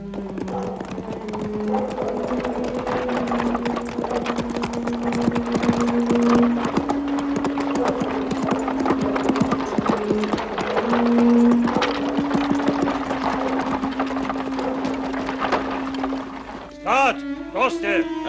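Horse hooves clip-clop steadily as a rider sets off in an animated medieval war scene, a continuous clatter running beneath tonal music and speech.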